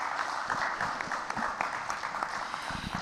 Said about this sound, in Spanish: les pido un aplauso por favor para Paula Guevara